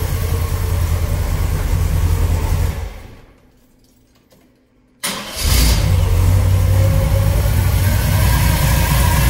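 A car engine runs, is shut off into a brief near-silence, then restarts with a quick catch and settles into a steady, loud, somewhat raised idle.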